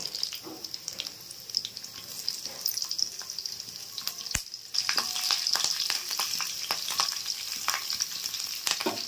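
Green chilies frying in oil with cloves, cinnamon and bay leaf for mutton curry, a steady close sizzle with occasional stirring clicks and scrapes, growing louder partway through.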